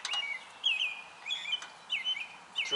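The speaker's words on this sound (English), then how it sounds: "You can hear the birds are having a fun time today, chirping." Several birds chirp outdoors in a quiet setting, bright repeated tweets at a moderate distance coming in short bursts with brief pauses.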